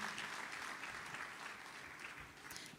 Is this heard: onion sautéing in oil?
no